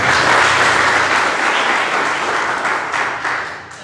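A congregation at a church service gives loud, sustained applause for God, a thick steady roar of many hands clapping close by that tapers slightly at the end.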